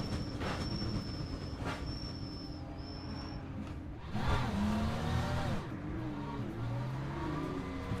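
Race car in the video game Le Mans Ultimate running on a damaged, blown front tyre on a damp track, with a steady engine drone and screeching, squealing tones rising and falling throughout, no talk.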